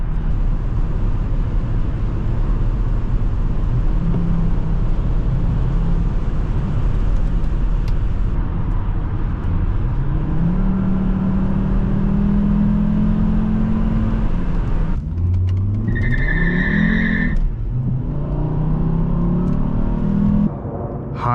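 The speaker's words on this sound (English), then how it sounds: "Today we are driving a 2005 Volvo XC70 on our channel" A 2005 Volvo XC70 2.5T AWD on a test drive, its engine droning steadily inside the cabin with rising and falling pitch as it accelerates and shifts, over constant road rumble, with a brief chime near the end.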